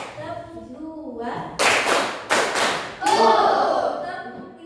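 Students in a classroom clap in unison following a teacher's cue, a few crisp grouped claps in a short pattern, then voices chanting along.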